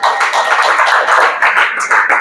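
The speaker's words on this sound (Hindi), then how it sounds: "एक बार जोरदार तालियां" A group of students clapping at a motivational lesson, a burst of close, fairly loud hand claps with an irregular rhythm that thins slightly toward the end, no talk over it.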